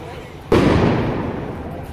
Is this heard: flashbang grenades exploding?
yes